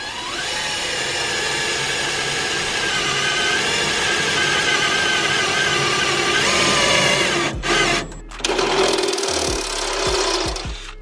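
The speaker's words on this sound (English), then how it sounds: "So I'm gonna drill the holes now." A power drill whines steadily at high speed for several seconds drilling holes in an aluminum car hood, then cuts out and restarts in a few short bursts.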